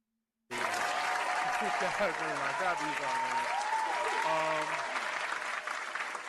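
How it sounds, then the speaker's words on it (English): A steady, dense round of applause from a crowd starts abruptly after a brief silence and carries on at full strength to the end, with voices rising over the clapping. "All right, round of applause, I guess."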